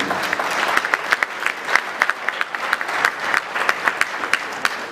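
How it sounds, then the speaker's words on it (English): A debate audience claps enthusiastically, a dense patter of many hands with a few sharper individual claps standing out. "I think they deserve a round of applause for the questions asked."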